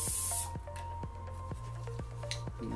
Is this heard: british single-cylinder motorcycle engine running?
no